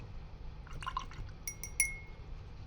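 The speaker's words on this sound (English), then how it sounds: "I'm going to wash my brush" Paintbrush rinsed in a water container during acrylic landscape painting, giving soft close splashes and a few light glassy taps against the jar over a quiet background.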